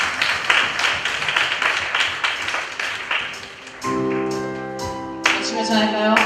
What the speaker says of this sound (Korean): 우리 영광과 주님 앞에 큰 박수로 주님께 올려드리겠습니다.